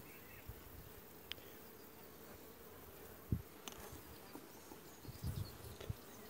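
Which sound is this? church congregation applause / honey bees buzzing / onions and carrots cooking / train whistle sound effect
honey bees buzzing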